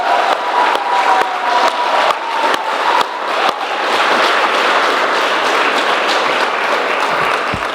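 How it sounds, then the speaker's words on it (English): A JROTC awards ceremony audience gives sustained applause for the regimental staff: steady, dense clapping from a sizable crowd with a few louder individual claps near the start, holding at an even volume throughout. "Please give me a big round of applause for our regimental staff"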